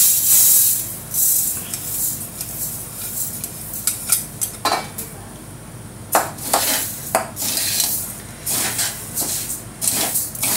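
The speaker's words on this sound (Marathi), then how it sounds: "आणि तांदूळ भाजून घेऊया" Rice, a kilo roasted in two batches, dry-roasting in a hot kadhai for chakali bhajani, with repeated metal scraping and stirring clatter over a soft continuous hiss, close and fairly loud.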